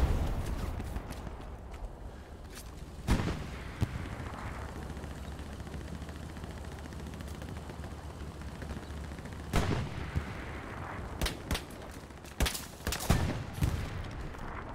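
Gunfire fills a Hell Let Loose battle, with dense crackling fusillades and scattered sharp shots over a constant rumble, including several loud close bursts in quick succession near the end.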